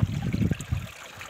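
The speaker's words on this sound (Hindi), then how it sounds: "देखिए सबसे टॉप पे पानी आ रहा है," Meltwater from snow trickling and splashing near the top of a high mountain slope by the China border, a short soft burst of running water.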